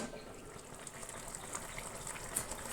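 Water pouring into an Ekadashi vegetarian vegetable curry in a cooking pot makes a faint, steady gushing wash with no break and no talk.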